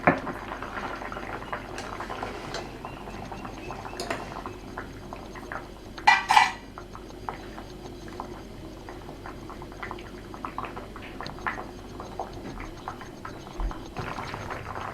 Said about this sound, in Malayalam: രണ്ട് മിനിറ്റ് തിളക്കട്ടെ.